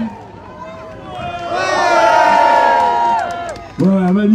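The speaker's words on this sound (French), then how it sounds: "on entend les acclamations" A crowd at the opening of the Grande Odyssée sled-dog race in Megève cheers and shouts, rising to a loud swelling roar before a voice cuts in near the end.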